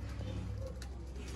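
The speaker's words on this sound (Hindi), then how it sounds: "ब्रांड लेवल के टैडी कबूतर" Teddy pigeons cooing in a loft, soft low coos close by under steady background noise and a faint voice.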